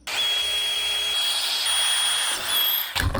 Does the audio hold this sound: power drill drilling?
yes